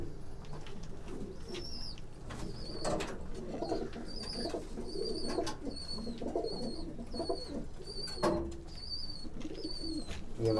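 Deobandi pigeons coo softly and steadily in repeated low phrases, with scattered chirps and clicks from birds nearby and no talking.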